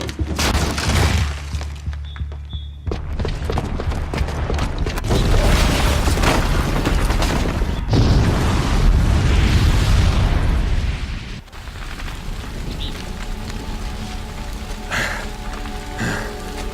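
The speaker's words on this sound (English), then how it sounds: "the booby trap on the bomb downstairs is gonna get set off" A booby-trapped bomb explodes in Horizon Zero Dawn, a loud sustained rumbling blast with crashing debris that rolls on for several seconds before fading into quieter ambient game sound.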